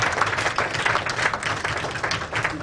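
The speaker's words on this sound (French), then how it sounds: "Acclamons pour Jésus." A church audience applauds for Jesus with dense, steady clapping that holds at an even level from start to finish, crowd noise blended in with no clear voices above it.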